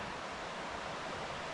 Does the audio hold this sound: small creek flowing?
yes